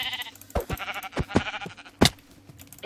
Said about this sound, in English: And here's the last sheep.